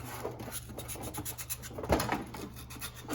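Sandpaper rasps inside the metal bore of a cheap knockoff TiAL-style turbo wastegate, quiet repeated rubbing strokes with one slightly louder scrape partway through.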